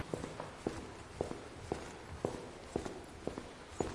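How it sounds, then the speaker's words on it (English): Footsteps in a thin-walled, non-soundproof Japanese hostel, a steady series of soft, even thuds at a walking pace, somewhat muffled and distant over a quiet background hiss. "all I could hear all night were footsteps"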